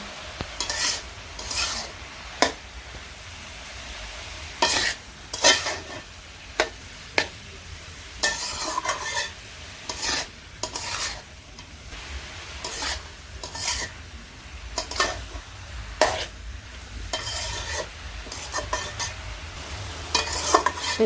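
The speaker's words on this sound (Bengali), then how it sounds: "এরকম করে ভালো করে অনেক সময় ভেজে নেব" Vegetables stir-fried in a pan, with steady sizzling and rhythmic scraping strokes of a spatula throughout, close and alone.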